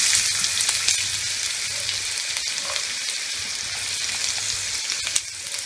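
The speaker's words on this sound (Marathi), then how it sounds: "कांदा थोडा फुलेपर्यंत परतवून घ्यायचा।" Chopped onion sizzles steadily in hot oil alongside cinnamon, green cardamom, clove and cumin while being cooked for an Indian broccoli bhaji, a continuous close frying crackle with light stirring scrapes and no talk.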